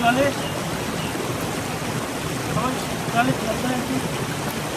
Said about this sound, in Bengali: যে জলটা আসছে, এটা কিন্তু যেই মাইথন যে ড্যামটা আছে ওইখান থেকে এই জলটা আসছে